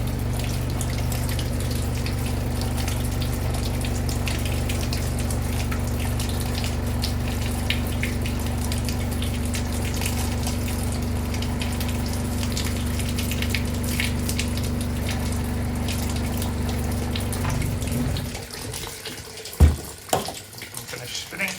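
A Daewoo DW900C washing machine filling with water gives a steady, loud rushing flow for most of the stretch, then it cuts off and a few knocks and clunks follow.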